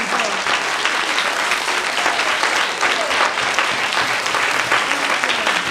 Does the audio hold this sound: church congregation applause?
yes